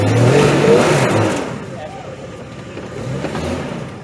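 An XJ Cherokee engine revs hard as the Jeep bumps over an off-road obstacle, a loud sustained roar that eases off, then swells again, with voices talking over it.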